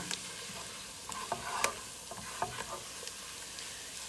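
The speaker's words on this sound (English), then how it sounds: "Keep stirring it, mixing it, trying to get that red color evenly distributed amongst all the veggies in there." Vegetables sizzling in a pot for lobster bisque while being stirred and mixed, a quiet steady fizz broken by several sharp spoon scrapes and knocks against the pot, with no talk.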